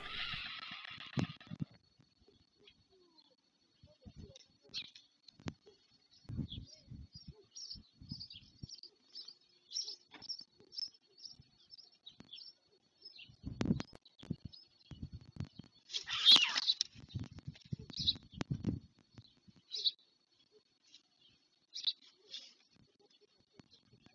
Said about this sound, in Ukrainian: коли чують клекіт дорослих, пищать, намагаються випросити поїсти